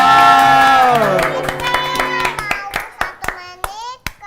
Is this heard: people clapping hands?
yes